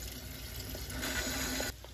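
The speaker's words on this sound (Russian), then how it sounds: "И промою холодной проточной водой." Cold running tap water streams steadily over rinsed pasta in a colander, a constant close-up wash of splashing water that eases off briefly near the end.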